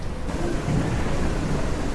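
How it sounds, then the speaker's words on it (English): A thunderstorm rages in the SurrounDead video game, with a loud rumble of thunder rolling beneath heavy, continuous rain; no one speaks. "Another major storm coming."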